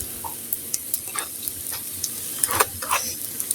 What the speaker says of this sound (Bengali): সুন্দর করে সময় নিয়ে এটি ভেজে নেবেন